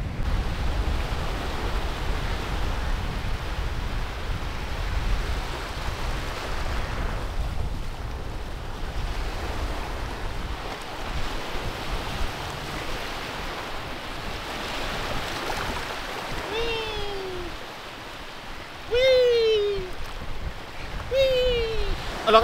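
Ocean waves wash in a broad, continuous rushing surf, loud and close, swelling and easing over time, with high voices or cries breaking through near the end.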